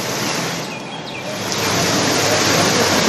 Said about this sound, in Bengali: বৃষ্টি এবং তার সঙ্গে ঝোড়ো হাওয়াও আছে।